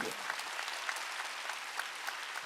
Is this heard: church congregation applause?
yes